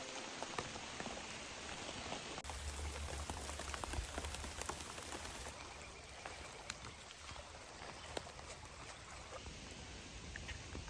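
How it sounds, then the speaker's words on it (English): Heavy rain pours down steadily outdoors, a dense even hiss with scattered drop patter, soft and continuous with no talk. "The rain is really coming down."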